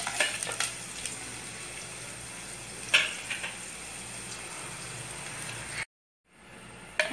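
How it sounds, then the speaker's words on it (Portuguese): Garlic sautéing in a drizzle of oil with onion in a pan for carrot rice: a steady, moderate sizzle with a few light utensil clicks, cutting out briefly before resuming. "refogo o alho"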